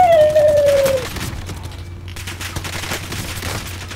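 Rapid automatic gunfire from an unidentified weapon in the Call of Duty Warzone video game, a loud dense burst of shots over a steady hum that fades into scattered softer firing.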